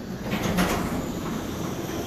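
Steady rumbling whir of a motorized garage door closing, with a rolling, rattling texture and a brief louder bump early on, heard up close with no talk.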